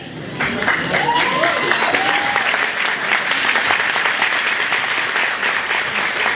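Audience applause for an honoree at the EWOC 2022 awards event, a full, steady round of clapping from a large crowd that swells in quickly and holds loud, with faint voices and a few cheers mixed in.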